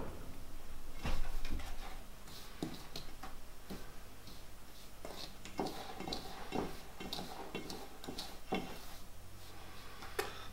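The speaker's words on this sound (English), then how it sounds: "we give it a good mix" Flour, sugar, icing sugar, salt and bicarbonate of soda being stirred together in a bowl for vegan Welsh cakes, a steady run of light taps and scrapes from a utensil against the bowl, close and continuous, with no voices.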